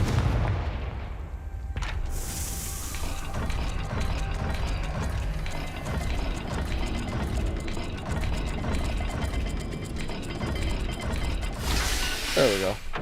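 In the Hogwarts Legacy video game, a mechanism opens after matching symbols: a long grinding, clanking run of gears and ratchets with heavy thuds. A bright whoosh bursts in near the start and again near the end, and there is no speech.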